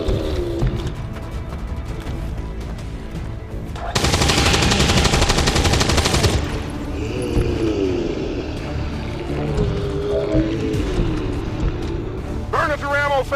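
Soldiers in XCOM 2 open fire in a long, loud sustained burst of automatic gunfire, framed by game ambience, other sound effects and talk before and after.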